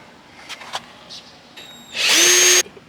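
Power drill backing out screws on a motorcycle headlight, a few light taps and clicks, then a brief whir and a loud, close high-pitched motor burst lasting under a second before stopping.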